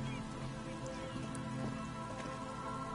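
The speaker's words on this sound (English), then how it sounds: "The reeds chafe against one another while the rain falls." Steady rain falling in the video game Disco Elysium, a soft, constant patter of drops on surfaces, quiet and even throughout, with no speech.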